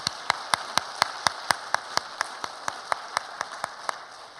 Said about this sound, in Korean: 격려의 박수 한번 잘 하라고 한번 드리겠습니다.